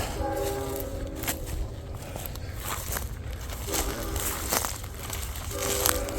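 A train rumbles past nearby, its horn sounding in long tonal blasts at the start and again near the end over the steady rolling noise.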